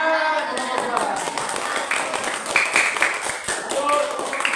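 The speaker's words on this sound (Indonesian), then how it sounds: "Tepuk tangan kelompok" A group of students clapping hands in a classroom, a burst of uneven claps running throughout, mixed with voices and chatter from the room.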